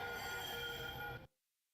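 A SkyTrain Mark V train runs past in a loud, dense rumble with whining tonal hum, filling the air steadily before cutting off abruptly into near silence.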